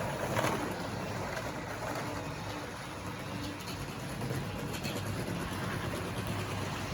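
A vintage Tri-ang Hornby Class 20 model locomotive runs along its track in a hump shunting yard, giving a steady, close whirring rumble throughout.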